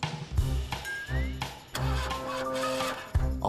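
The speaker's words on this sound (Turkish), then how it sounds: "Albay arabayı çalıştırmayı deniyor. Peki neden olmuyor?" A cartoon car engine failing to start, heard as a series of repeated sputtering, chugging cranks with stops and restarts, along with a short rising whistle-like tone, over music-like harmonic tones and without speech.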